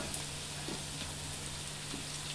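Tomatoes dropped into a pan of browned onions for a country-style chicken sukka, frying with a steady, even sizzle and crackle throughout, close and moderately loud with no talk.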